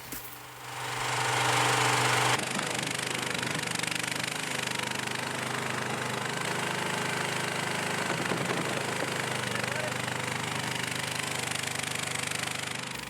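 A Chinese mini skid steer pushes snow with its bucket, its engine running loud and steady with a rough, knocking drone that starts with a heavier burst and then holds a constant strain.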